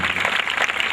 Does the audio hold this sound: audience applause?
yes